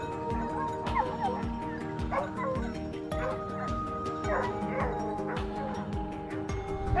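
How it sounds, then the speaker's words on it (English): Hunting hound barking while chasing wild boar, a rapid string of repeated yelping barks with whimpering yips, fairly close and continuous. "The hound's barking quickly guided Nick's hurried footsteps forward."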